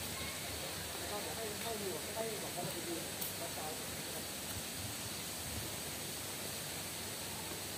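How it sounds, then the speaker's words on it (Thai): Khao Chong Lom waterfall in Nakhon Nayok flowing, a steady broadband rush of falling water that stays even and continuous throughout, with no voices. "ไปจ้าน้ำตกเขาช่องลมนะครับ"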